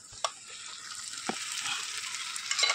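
Egg tadka sizzling in a pan while being stirred, a soft continuous frying hiss with a few sharp utensil taps scattered through, fairly quiet and close, no talking.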